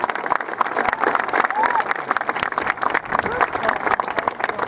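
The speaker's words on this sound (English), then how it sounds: "Let's give that a round of applause." A high school graduation audience claps warmly for a valedictorian, a lively mix of many hands with some cheering and crowd murmur, steady and fairly close throughout.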